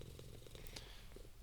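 Soft, low cat purring from the video game Hades II, a faint continuous rumble lasting briefly with no talking.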